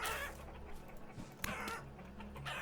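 Chickens in the video game Vintage Story give soft, close clucks amid a low ambient game background, with a sharp short sound around the middle.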